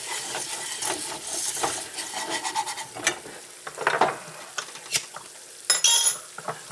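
Whisking flour into a hamburger stew pot, with a close, busy run of scraping and stirring strokes and soft light clinks, mild sizzle underneath, and no talking.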